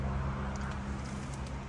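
Steady low road rumble inside a Honda Clarity driving with a kayak on a Yakima JayLow rack, a constant muffled drone with faint wind hiss and no talking.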